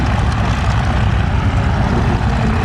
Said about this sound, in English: Every one of these engines is a Continental 7-cylinder engine.